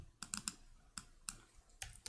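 Quick, light keystrokes on a computer keyboard, a few scattered clicks in short bursts, close and fairly quiet with no voices.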